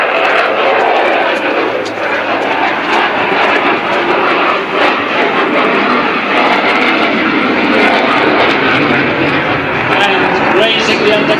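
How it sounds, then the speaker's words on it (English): A display aircraft at the Clacton air show flies a barrel roll with its undercarriage down, its engine droning loud and steady throughout while a commentator talks over it on the public address. "Now he's got the undercarriage down, flying a dirty barrel roll."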